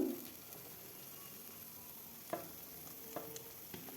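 Potatoes sizzle in hot oil with browned onion, dry red chilli and bay leaf for a pointed gourd curry, a steady close frying hiss broken by a few soft spatula knocks.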